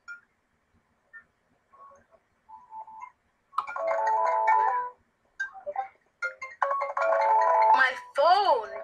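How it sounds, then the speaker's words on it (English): A phone ringtone plays in short electronic bursts and then as longer melodic phrases, with a few clicks before it, starting faintly and growing louder. "My phone!"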